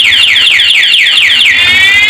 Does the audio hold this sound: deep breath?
no